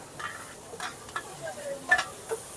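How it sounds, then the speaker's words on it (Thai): Fried mussel pancake (hoi tod) cooking at a street stall at a walking street market in Mae Hong Son: soft sizzling with intermittent scraping and clicking spatula strokes, fairly quiet and close. "นี่อะไรหอยทอด"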